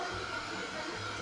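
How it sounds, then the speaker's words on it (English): A hair dryer blows continuously at close range onto glue, a steady whooshing whir with a low motor hum and no pauses. "if you use a hair dryer, you can make your glue dry a lot faster."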